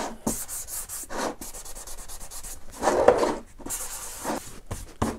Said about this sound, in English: get the sanding pad again on a fairly fine one, just work that back